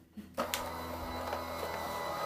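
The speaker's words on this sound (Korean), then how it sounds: "이제 아너스 물걸레 청소기를 돌려보겠습니다." An Honors wet mop cleaner switches on after a brief click and settles into a steady mechanical whir with a faint high whine, running continuously.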